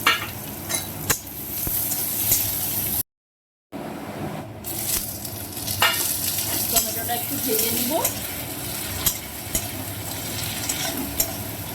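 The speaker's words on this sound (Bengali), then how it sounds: "পেঁয়াজটা একটু ভেজে নিই" Chopped onion fries in a pan for a papaya curry, a dense close sizzle with scraping stirs and clinks throughout, interrupted by a brief silent gap.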